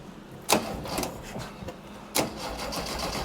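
An Empi IMP dune buggy engine, a barn find, cranks over in short bursts with two sharp compression hits, heard nearby without any talk.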